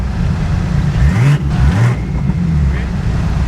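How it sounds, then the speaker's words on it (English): A Nissan 350Z drift car laps the track at the Doricon 2024 drift event, its engine droning and revving with wavering pitch, loud and close, as the car pushes through a drift. "about to do another lap with Cam chasing us"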